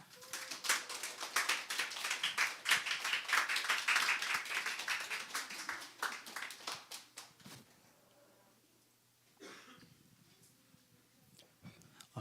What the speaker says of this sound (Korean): 우리 사랑과 격려의 박수로 환영하겠습니다